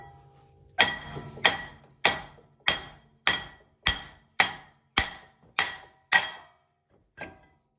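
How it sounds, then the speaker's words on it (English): Ten sharp, heavy strikes at a steady pace on a stuck front brake rotor of a Chrysler Town and Country or Caravan, followed by a pause and one last blow, ringing briefly after each hit. "You may have to give it some encouragement to come off with a rubber hammer"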